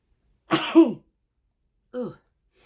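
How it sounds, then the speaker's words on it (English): A person sneezes once, loud and close in a quiet room, then a short voiced grunt follows about a second later. "hold on, I'm going to sneeze."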